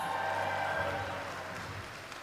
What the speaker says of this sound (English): A big round of applause for your women's speed finals!